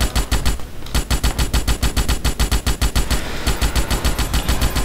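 Rapid, steady machine gun fire in the Starship Troopers video game, a loud, dense stream of close shots hammering on without pause for several seconds, alone with no talk.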